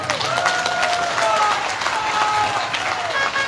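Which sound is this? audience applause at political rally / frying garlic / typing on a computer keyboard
audience applause at political rally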